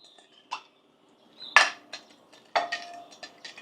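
Calamansi and oyster sauce being stirred into a barbecue marinade with a utensil, giving a few sharp clinks and scrapes against the bowl, spaced irregularly and heard up close with no talking.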